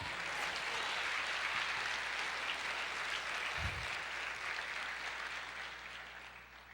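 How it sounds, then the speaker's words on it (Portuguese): A church congregation claps together in a steady, even wash of applause that holds for several seconds before gradually tapering off. "Pode aplaudir o Senhor"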